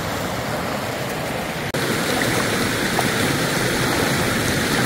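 A clear forest river near Haridwar rushes continuously over stones, a loud, even broadband wash that stays steady throughout.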